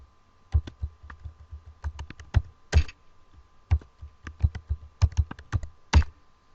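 Keys on a computer keyboard are pressed while installing FreeBSD in VirtualBox, sharp close clicks in irregular bursts, several heavier thumps standing out as the Enter key is struck again and again, with no talking.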